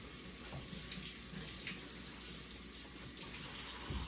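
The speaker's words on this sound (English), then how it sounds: "I'll wash my hands." A tap runs steadily into a sink while hands are washed during rhubarb custard pie baking, a soft continuous splashing stream with no talk over it.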